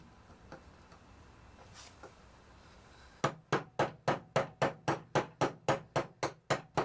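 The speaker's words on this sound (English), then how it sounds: "we're just going to peen that bad boy over so that that can never come out" Hammer peening a part of a 4L65E transmission shift correction kit in a 2003 Escalade: after faint background, about fourteen sharp, evenly spaced metallic blows ring out close by, alone.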